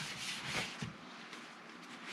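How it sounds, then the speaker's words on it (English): Hand rubbing of a wax finish onto a wood surface makes soft, continuous swishing friction, faint and close, with a couple of slightly stronger strokes early on. "Now I'm just continuing to rub this. Just keep it going."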